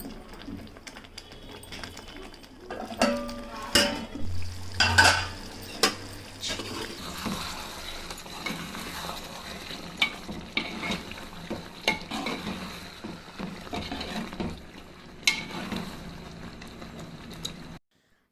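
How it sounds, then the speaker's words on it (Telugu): Gongura chicken curry stirred and cooking in a pan, with a steady soft sizzle and repeated scraping and stirring clatter that carries on throughout, fairly quiet and close. "ఇంక ఇలాగైతే ఒక 2-3 మినిట్స్ అట్లా కలుపుకుంటూ ఉడికించుకోవాలి"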